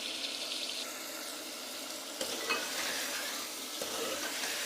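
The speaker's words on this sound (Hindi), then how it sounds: "इसमें मैं कद्दू शरीफ जो है वो शामिल कर दूँगी और इसे हम अच्छे से भून लेंगे।" Chunks of bottle gourd (lauki) sizzle steadily as they fry in cooked masala, a constant bright hiss broken by a few scraping stirs of the spoon through the pan.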